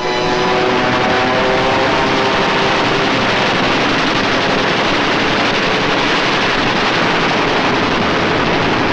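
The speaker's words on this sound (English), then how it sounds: "Now it was for the Germans to learn the terrors of strafing." WWII propeller aircraft strafing with machine gun fire, a dense, loud, continuous roar of engines mixed with rapid gunfire, steady and unbroken with no talk.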